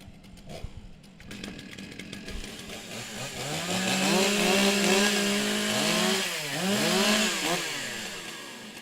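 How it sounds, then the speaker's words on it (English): Several chainsaws rev and warm up together at a timbersports championship for women and rookies in New Zealand, with overlapping rising and falling engine whines, loud and close, after a brief clatter and a few idling sputters. "Warm up your saws."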